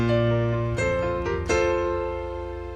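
Sustained notes from a Best Instruments Galaxy D digital piano patch layered with faint strings, a few chords struck and ringing out, clear and alone.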